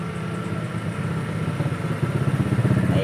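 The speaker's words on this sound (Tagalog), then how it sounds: "maingay yung motor" Wash motor of a Camel twin tub washing machine running noisily during repair, giving a steady, close mechanical hum with a rattling, pulsing clatter that grows a bit louder toward the end.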